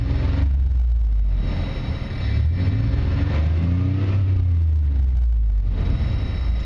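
A truck's 4.3 engine with a new welded-in muffler idles and revs up close, giving a deep, fairly quiet rumble that swells and eases without pause.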